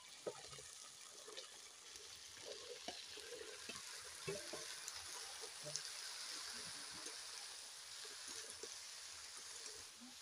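Bottle gourd cooks in a pan over a base of cumin and green chili paste, with a faint, soft frying hiss broken by scattered clinks and stirring knocks.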